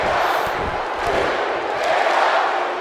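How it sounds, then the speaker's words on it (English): A crowd cheers at a wrestling match in WWE 2K18, a dense, loud, continuous roar that holds steady throughout. "The crowd trying to cheer Big E up to health once more"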